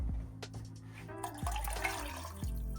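A cup of water poured into a cooking pot for shrimp and grits with chicken broth, a soft sloshing splash with gurgling and a few clunks, quiet and close.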